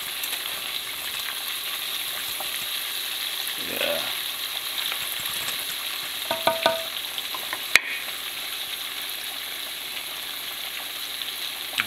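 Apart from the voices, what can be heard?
buttermilk marinated chicken frying in grease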